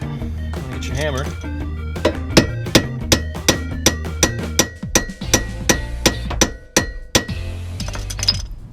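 Sharp metallic hammer strikes on a Lexus IS300 tie rod end, a regular series of about a dozen loud ringing blows with short pauses, after some brief clinking of tools and a voice at the start.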